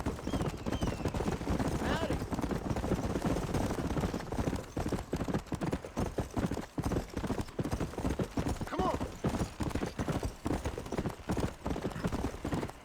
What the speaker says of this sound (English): O cavalo não tá reclamando, tá aos poucos aí, tranquilo.